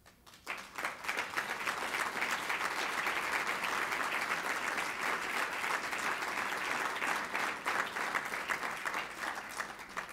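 Sustained, dense applause from a large audience at a formal gala dinner, steady and fairly even throughout, with no voices rising above the clapping.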